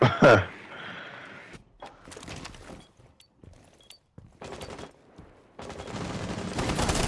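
Gunfire in Rainbow Six Siege comes as sharp bursts, a loud opening shot followed by scattered fainter shots, impacts and noisy action, with a voice briefly heard.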